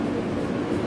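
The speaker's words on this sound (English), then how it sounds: "We was on a Brooklyn-bound Q Express train." A Brooklyn-bound Q Express R160A subway train rumbles steadily on the move, a dense, even low roar with no talk over it.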